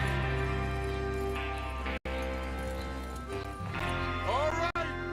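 Horses gallop in Red Dead Redemption 2, with steady hoofbeats running under music and a voice speaking over them.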